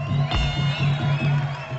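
A festival crowd cheers and applauds for a guitarist during a Mawazine concert set, a steady dense roar of audience noise with a low sustained musical tone underneath.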